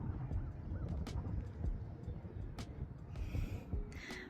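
Ducks call near a picnic spot outdoors, with faint scattered quacks and honks over a steady rumble of wind and ambient noise. No one speaks.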